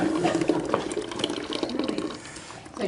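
Water drains and pours from an ice cream maker while sorbet is being made, producing a continuous splashing, gurgling flow at close range for the whole few seconds, with no talking.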